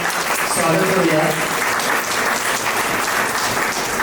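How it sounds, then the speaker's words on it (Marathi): A crowd at a school retirement ceremony claps to welcome a guest in dense, continuous applause, with voices talking over it. "सर्वांनी आपण टाळ्या वाजवून त्यांचं स्वागत करूया"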